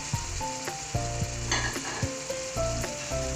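Meat tipped into a karahi of garlic and ginger already fried for a minute or two, for a Karachi-style Butt karahi, sizzles and crackles loudly, with clinks of a spoon or ladle against the pan and no talking.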